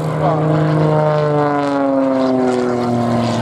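Loud, droning propeller engine of an Extra 300 SR aerobatic plane at an air show, its pitch sliding steadily downward as it passes close by.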